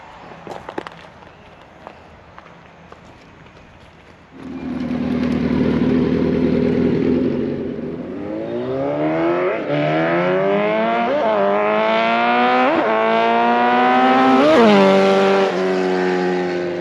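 A customer's restored Suzuki Hayabusa motorcycle with a new exhaust and nitrous rides off down the road. A few quiet clicks come first, then the engine bursts in loud and close, idles roughly, and revs up and down repeatedly with rising pitch.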